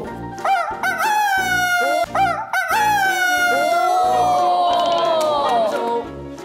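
A person imitates a rooster crowing as a talent show act: a loud, clear cock-a-doodle-doo voiced with rising, wavering tones, repeated in short bursts before one long drawn-out crow, close and alone.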